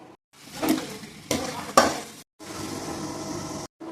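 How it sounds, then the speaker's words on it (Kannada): Peanuts and roasted gram frying in hot oil for avalakki chivada, a steady sizzle broken by a few sharp bursts of stirring and scraping in the pan, ending in a continuous even hiss. "ಕಡಲೆ ಬೀಜ ಮತ್ತು ಹುರ್ಗಡ್ಲೆ ಕರ್ಕೊಂಬಿಡೋಣ"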